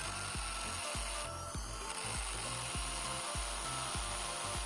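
A Bosch GSB550 impact drill bores into a concrete block, a loud steady grinding whine broken by a rapid, regular series of heavy hammering thumps, with no voices.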